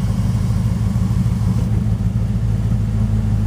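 A 1973 Plymouth Fury Suburban station wagon drives slowly around a yard, its engine giving a steady, close, low rumble that holds even throughout with no voices.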